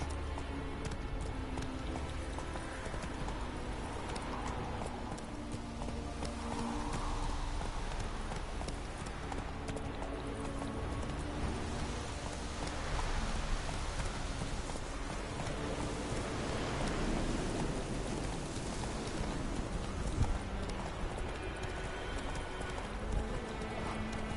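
Roach, a horse in The Witcher 3, trots along with continuous hoof clip-clops over a steady hiss like rain, moderately loud throughout.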